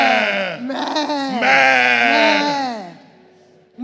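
Sheep bleat loudly and close by in a run of wavering, overlapping calls that rise and fall for most of the stretch, then trail off into near quiet at the end.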